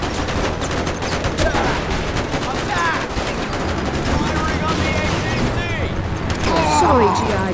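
Rapid bursts of automatic gunfire and booming shots from the video game Mercenaries 2: World in Flames fill the whole stretch, dense and continuous, with someone talking over the battle.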